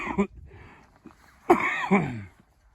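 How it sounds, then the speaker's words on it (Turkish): A person coughs several times in quick, harsh bursts close to the microphone, with a short pause between two groups of coughs. "affedersiniz öksürdüm"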